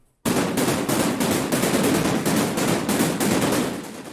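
Aggressive synthesized noise percussion with no modulation effects, entering after a brief silence as a dense, loud, rapid barrage of gritty noise bursts in a steady rhythm, with no voices.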